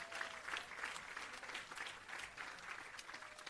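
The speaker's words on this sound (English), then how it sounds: "give yourselves and our facilitators a round of applause" An audience at a graduation ceremony for restorative justice facilitators applauds with continuous, even clapping that is heard from a distance and sounds faint.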